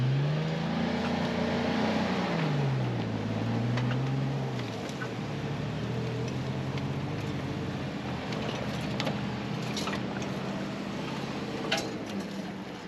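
Van engine revving as it is towed out with a recovery rope off an overland trail, the engine note rising and falling in long sweeps before settling into a steady drone, fairly loud and continuous.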